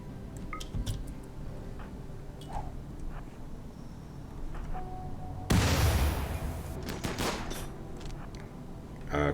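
Armed raiders in the RimWorld video game fire their guns in scattered sharp shots and clicks, building to a loud burst of rapid gunfire midway, followed by more irregular cracks.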